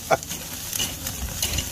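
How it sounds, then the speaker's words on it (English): Pork belly, kimchi, onions and garlic sizzle and fry on a grill, a steady close crackle broken by a few scraping stirs and clatters, with no talk over it. "Pork belly on the grill, fried kimchi, onions, garlic, is on."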